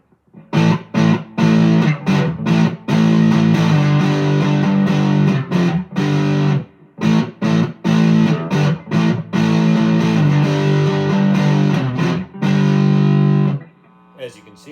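Electric guitar on the neck pickup played through a JHS Violet Lari Basilio overdrive pedal: loud, saturated driven chords and riffs in choppy bursts with brief gaps, ending on a sustained ringing chord.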